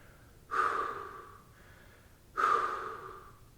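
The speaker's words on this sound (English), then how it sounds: "Taking a breath here." Two slow, audible breaths during a yoga pigeon pose, each a strong airy inhale or exhale that fades out gradually, close and clear against a quiet room.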